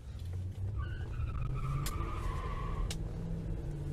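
A 1965 Pontiac Bonneville with a positive-traction rear end squeals its tires in a long, high, continuous screech as the back swings out, over a low, steady engine rumble.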